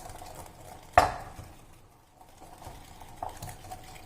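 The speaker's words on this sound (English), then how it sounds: "Now just mix the vanilla essence." A spoon stirs vanilla essence into eggless tutti frutti cake batter with soft scraping, opening with one sharp clink against the bowl, then quieter stirring.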